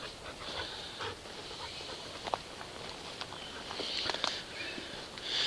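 A pet dog pants and sniffs close by, quick soft breaths and snuffling running steadily, with light pattering movement and no talking.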